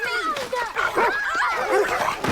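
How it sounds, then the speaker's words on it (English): A dog yips and whimpers excitedly at close range on an outdoor film set, its rising and falling cries overlapping with agitated voices throughout. "Get your dog away from me!"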